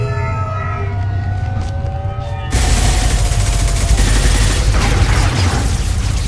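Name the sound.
gunfire in the video game Mass Effect 2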